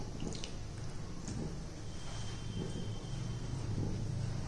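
Soft, wet squishing and pressing sounds repeat steadily up close as dough is worked by hand while water is sprinkled in bit by bit, with a faint background hiss.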